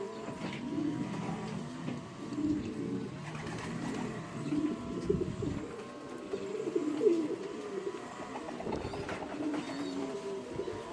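Soft, low racing pigeon cooing repeats over a steady murmur of birds, with occasional faint clatter in the background, at a loft in Kybartai, Lithuania.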